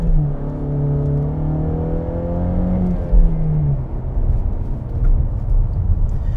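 Ford Mustang GT with a 5-liter V8 accelerates on a street with construction nearby, its engine note rising steadily through the gears in a loud, close, smooth growl that eases off into road rumble.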